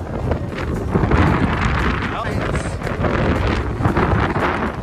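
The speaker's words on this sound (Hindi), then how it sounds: "इतना तेज हवा चल रहा है" Strong gusty wind buffets the microphone outdoors near a temple, loud rumbling bursts rising and falling, with a person speaking intermittently underneath.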